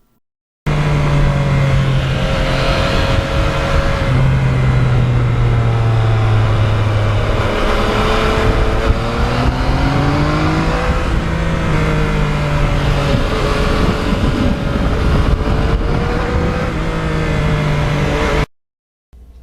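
Yamaha MT-09 motorcycle engine with no muffler, exhaust running only through the catalytic converter, revving loudly and steadily with pitch rising and falling repeatedly for about eighteen seconds, close and alone before cutting off abruptly.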